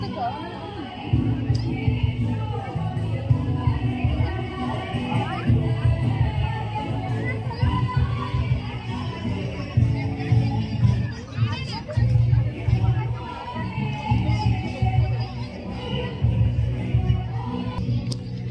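Dense crowd hubbub at an outdoor Holi Basanta Utsav celebration in Siliguri, a steady loud babble of many voices with shouts and children's cries throughout.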